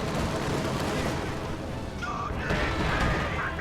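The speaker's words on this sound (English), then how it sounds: "an anti-tank bomb run just got called in on the KT, bringing it down to just a tiny little sliver" An anti-tank bomb run hits a King Tiger tank in a World War II strategy game, a dense barrage of rumbling explosions and gunfire that stays loud throughout.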